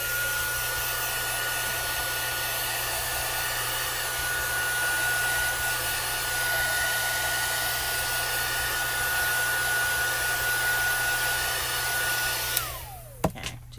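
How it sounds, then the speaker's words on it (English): A heat tool blows a steady, loud whir while it sets and dries rubber stamp ink on paper. It runs continuously and alone for about twelve seconds, then cuts off sharply, and its motor winds down. "I'm gonna take the heat tool real quick and set that ink and make sure it's dry"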